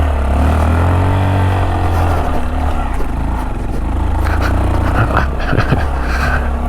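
A Honda Monkey motorcycle with rear suspension bushings fitted rides off-road over uneven ground, its steady engine drone close and continuous, with wind noise and a few bumps and rattles toward the end.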